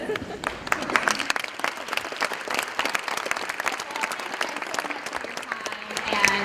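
Theatre audience applauding steadily after a performance, a dense sustained wash of many hands clapping that swells slightly near the end, with some voices mixed in.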